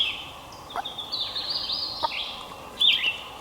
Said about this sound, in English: He's gobbling a lot more regular than he was when I first got